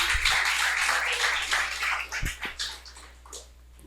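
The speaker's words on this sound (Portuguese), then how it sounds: "Bate palmas alto no nome do Senhor" A church congregation clapping loudly together during a worship service, a dense burst of claps that starts strong and gradually thins and fades over a few seconds, with no voice on top.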